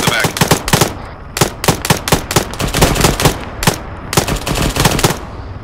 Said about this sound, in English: Has a guy shooting in the back.